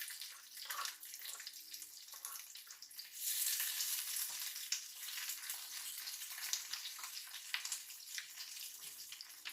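Garlic, ginger and onion sizzle steadily in a pan over a low flame while Jamaican-style coconut-milk salmon is being prepared, a soft continuous crackle with brief stirring swells and no talking.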